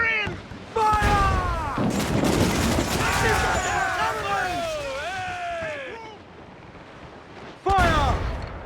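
Ship cannons boom in a naval battle in Assassin's Creed IV Black Flag, heavy blasts at the start and again near the end, mixed with loud shouted orders from the crew and the rumble of battle throughout.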